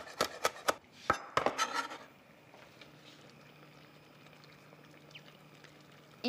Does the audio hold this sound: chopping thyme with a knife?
yes